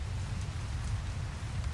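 Steady rain falls as ambience during a tabletop role-playing session set at a night camp, a constant close patter with a low rumble beneath it and no voices.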